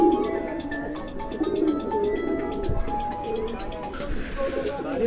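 Pigeons, a flock of kaath kalpara Madrasi birds, cooing softly in their loft, with low repeated coos under a background hum and someone speaking over them.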